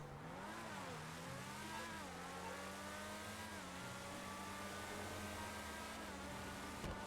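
Car engine in GTA 5 Online revving steadily through a turn, a loud continuous drone whose pitch dips and rises with throttle, with no speech over it.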